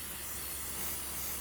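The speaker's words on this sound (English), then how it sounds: "take some cooking spray and spray this" Cooking spray hisses in a continuous faint burst as it is sprayed over a suckling pig lifted from a Pit Barrel Cooker, a soft, even aerosol rush lasting the whole moment.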